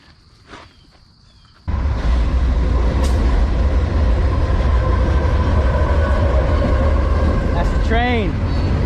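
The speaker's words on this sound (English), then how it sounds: "That's the train." Train passing close by, a loud sustained rumble that starts abruptly and fills the clip, with brief squealing tones near the end while people talk near a fishing spot.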